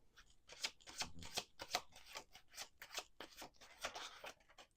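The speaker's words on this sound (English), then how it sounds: "Last shuffle." Tarot cards are shuffled in a quick, steady run of crisp riffling flutters, close and fairly quiet, with no voices.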